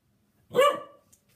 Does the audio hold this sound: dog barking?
yes